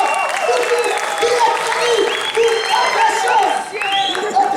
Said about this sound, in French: Applaudissez encore très fort